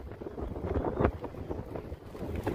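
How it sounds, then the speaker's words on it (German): Strong wind roars and buffets the microphone continuously on a steep downhill bike ride in the Scottish Highlands, with deep rumbling gusts surging and easing throughout. "also es ist unglaublich windig"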